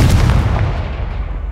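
A Confringo blasting spell explodes in the Hogwarts Legacy video game. A single loud, heavy boom starts at once and fades out over about a second and a half.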